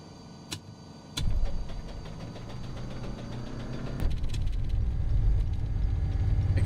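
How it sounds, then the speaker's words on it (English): Piston aircraft engines start up in a flight simulator, a starter whirring and clicks giving way to a low, rough engine rumble that builds and steadies into a loud, continuous drone. "Go ahead and start up our engines."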